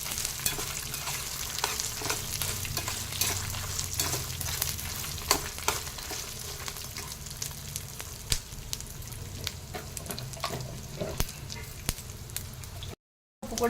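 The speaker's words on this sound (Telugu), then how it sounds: "ఇలా వేసి అన్నీ వేసుకొని దూరగా సన్న సెగపై ఒక 10 నిమిషాలు వేయించాలి ఫ్రెండ్స్" Tomatoes fry slowly over a low flame in a pan for Telangana tomato pickle, a continuous close sizzle broken by sharp crackles and pops, with occasional stirring scrapes and a brief cut near the end.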